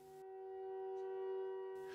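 An air raid siren sounds at night in the war-damaged city of Kherson, holding a steady, unbroken tone at moderate, distant loudness for the full two seconds with no other sound over it.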